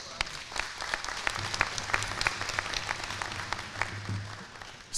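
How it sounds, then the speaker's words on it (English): Graduation audience applauding, a dense, steady wash of many hands clapping at moderate distance that carries on for the whole stretch with no talk over it. "Give yourselves another round of applause for that."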